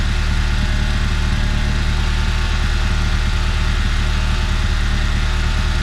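A Ford Fiesta ST car engine idles steadily and smoothly throughout, a constant low rumble close by with no other sounds.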